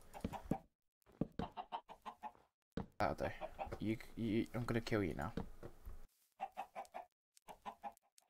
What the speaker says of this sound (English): This chicken just really annoyed me.